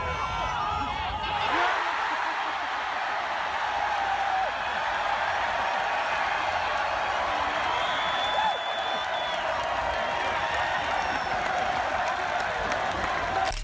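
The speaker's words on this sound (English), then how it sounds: "the crowd went nuts" Golf gallery crowd erupting after a player sinks a putt, a sustained dense wash of cheering, applause and whoops that swells at the start and carries on steadily to the end.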